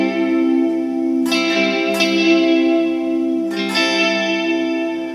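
An electric guitar chord rings through a Guptech WKB multi-effects unit in mode 6, a reverb-like chorus, with shimmering modulated sustain and a few fresh strums, loud and alone.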